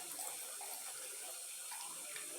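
Water poured onto sandy soil in a bottle during a classroom soil experiment, a steady, close splashing trickle with an even level running through the whole stretch and no talk.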